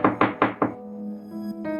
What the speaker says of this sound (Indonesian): mendengar suara ketukan pintu segera membukanya